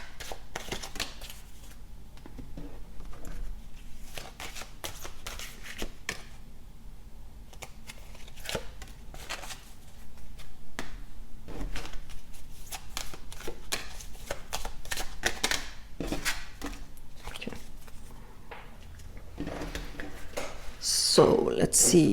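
Oracle cards being shuffled by hand, a run of quick papery riffles and taps in irregular bursts, fairly close, with a louder clatter at the end.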